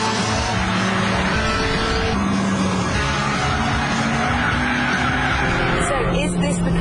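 Honda Civic Type R lapping a race track, engine droning loud and steady with tire noise throughout, ending in a brief squeal of tires.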